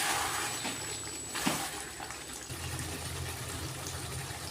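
Pointed gourd and prawn curry (potol chingri) with garam masala boiling in a pan, giving a steady, close bubbling hiss that runs through the whole stretch.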